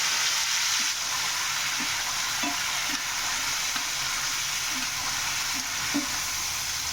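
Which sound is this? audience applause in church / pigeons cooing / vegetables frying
vegetables frying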